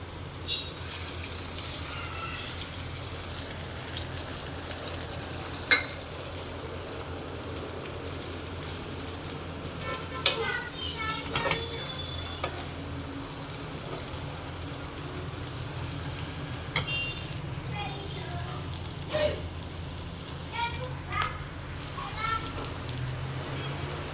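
An egg frying in a pan for brinjal (vangi) fried rice gives a low, steady sizzle, fairly quiet throughout, broken by a few sharp clicks and pops.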